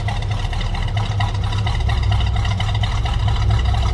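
A 1968 Buick Skylark Custom hardtop with a 350 V8 idles close by, its low, steady rumble continuous and even throughout, with no one speaking.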